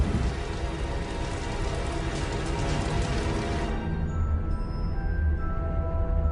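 Steady, dense rain pours down, standing in for methane rain, with a broad hiss and patter throughout that thins slightly in the upper range partway through while low rumbling continues.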